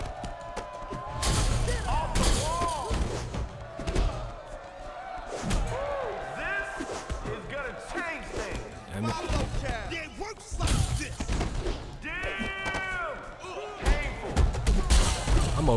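Repeated heavy slams and thudding punches from a Def Jam Fight for NY brawl at the Club Murder venue, with two teams of fighters facing each other, dense and continuous, mixed with game voices and music throughout.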